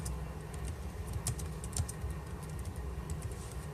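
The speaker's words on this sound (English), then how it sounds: "I'm typing it in right now." Quiet, rapid clicking of fingers typing on a computer keyboard, irregular keystrokes close by with a low background hum.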